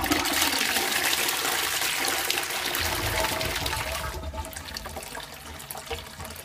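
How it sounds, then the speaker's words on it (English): A brand-new close coupled toilet in a refurbished college washroom gives a weak flush: steady rushing water close by that thins out toward the end, with no talk. "Weak flush, but obviously brand new,"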